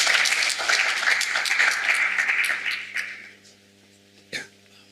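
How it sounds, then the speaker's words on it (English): A round of applause from a session audience at a conference on resource efficiency, fairly strong clapping that fades after about three seconds into near silence, followed by a brief thump. "round of applause, please."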